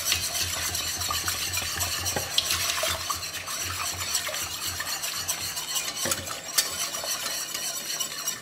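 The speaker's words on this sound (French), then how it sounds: "Pareil, toujours en remuant, ça va épaissir, voilà." Butter-flour roux is stirred continuously in a pan as stock goes in for a veal blanquette, a soft, steady bubbling and scraping of the spoon, with occasional light clinks against the pot.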